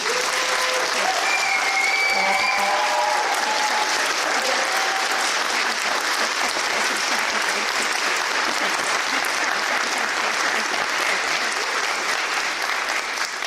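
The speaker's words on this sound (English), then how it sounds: "So please give them one more round of applause." Sustained, dense applause from a theatre audience for first-time stage actors at a summer festival show, a steady roar of many hands clapping with a few brief tonal sounds near the start.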